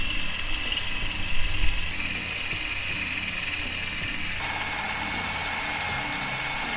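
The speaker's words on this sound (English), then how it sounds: "I'm going to be using an 8mm drill bit, and I'm going to have 4 mounting points" Steady high whine of a drill boring mounting holes with an 8mm bit for a carbon fibre spoiler on a Mazda MX-5 NC, running continuously at close range with a slight pitch shift partway through.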